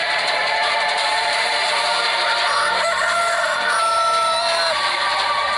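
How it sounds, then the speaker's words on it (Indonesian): Rooster crowing loud and close over a steady, dense backdrop of other birds and fowl clucking. "Bila engkau mendengar suara ayam jantan"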